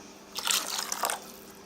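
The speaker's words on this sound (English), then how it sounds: "So I'm adding the water." Water poured into okpa batter, a short soft splashing trickle lasting about a second, quiet and close with no talk over it.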